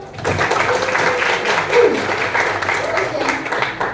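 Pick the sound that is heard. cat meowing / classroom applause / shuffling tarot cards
classroom applause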